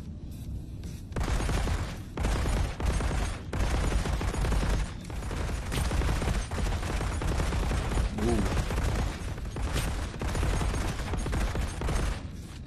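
Grenade explosions and gunfire in the game Dixotomia come in loud, dense bursts of rapid shots broken by short pauses, close and continuous, with game voices faintly mixed in.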